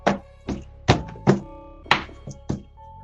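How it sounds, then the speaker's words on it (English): A hand thumping on the inside of a car door, about seven dull, hollow knocks in an uneven rhythm, close and fairly loud with nothing else heard. "You just hitting the door."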